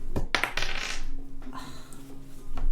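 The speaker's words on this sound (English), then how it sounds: "Last dice throw" Dice thrown onto a table during a tabletop role-playing game: a quick, close clatter of several hard rattling hits that settles into quiet room tone.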